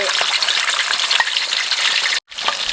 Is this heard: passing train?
no